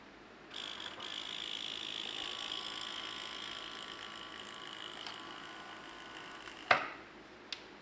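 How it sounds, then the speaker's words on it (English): The small bilge pump of a large German Type XXI RC model submarine runs in reverse as a faint, steady electric whine for several seconds. It stops with a sharp click, followed by another light tap. "now I'm just going to reverse the lead on the pump just for demonstration purposes."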